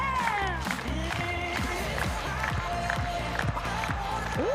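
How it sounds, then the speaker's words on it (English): A stadium crowd of about 7,000 fans claps and cheers at a game in Amarillo, Texas, with rhythmic clapping pulses under loud piped music and scattered shouts. The whole crowd roars steadily throughout. "All right, clapping those hands!"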